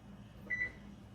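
A kitchen oven timer being set for baking apple crisp, two short close electronic beeps in quick succession against a quiet room hum.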